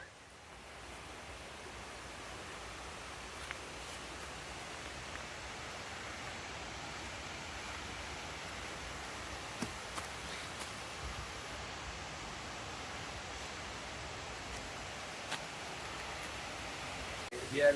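The Nidangoda Ella waterfall in a Sri Lankan forest gives off a steady, even rush of falling and flowing water. The hiss stays unbroken and fairly distant throughout, with only a few faint clicks on top.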